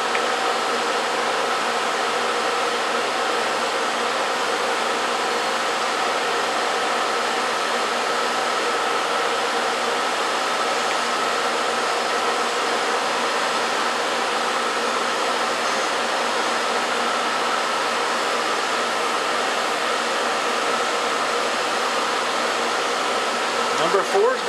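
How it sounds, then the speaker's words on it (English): Sandpaper is held against an offset-turned wooden walking stick spinning on a lathe, producing a continuous, even whooshing hiss over the machine's running noise that holds steady throughout. "I'm going to finish sanding that"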